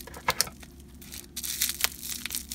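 Scissors cutting through taped packaging around Disney Doorables mini figures, with crinkly snips, tearing and rustling bursts up close, fairly quiet.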